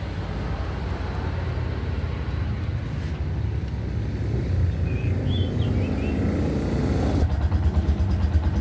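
A motorcycle engine idling steadily after being started, a low continuous rumble heard close throughout with some wind noise over the microphone, and no talk.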